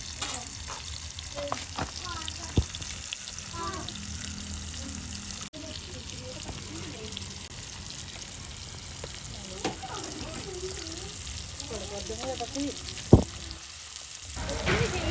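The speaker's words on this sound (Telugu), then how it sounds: "బ్రౌన్ ఆనియన్స్ వచ్చే వరకు ఫ్రై చేసుకుందాం" Onions sizzle and fry in a clay pot over a wood fire on a farm while being cooked for chicken biryani, a soft continuous crackle with occasional stirring scrapes and a person talking.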